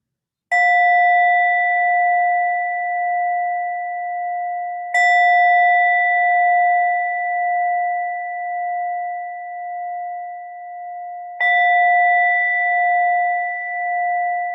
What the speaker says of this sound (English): you'll hear the sound of a bell